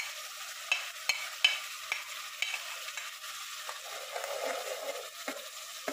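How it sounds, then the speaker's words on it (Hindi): A spoon stirs a tomato, garlic, ginger and onion paste in a frying pan for black chana masala gravy, giving soft scraping strokes over a quiet sizzle, close and with no talk. "ये हमने इसके अंदर डाल के मिक्स कर लिया है"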